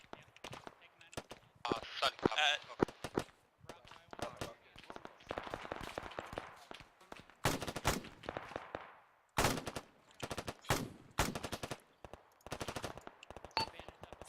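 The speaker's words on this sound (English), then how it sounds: "taking marksman fire from our southeast and southwest this time" Marine squad training with the 15th MEU: repeated bursts and rapid volleys of rifle and machine-gun fire crack out in clusters, with scattered voices between them.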